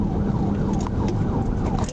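An emergency siren wails steadily through a car-chase pursuit by an Arkansas state trooper, its rising and falling tones sitting over a constant loud road and engine rumble.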